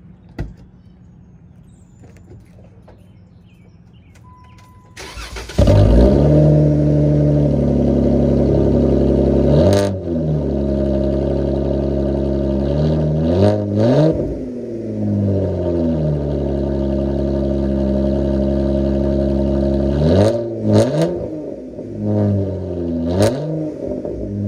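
A vehicle with an upgraded loud exhaust cranks and starts after a quiet opening, then idles heavily and is revved several times, each rev swelling and dropping back, close and loud.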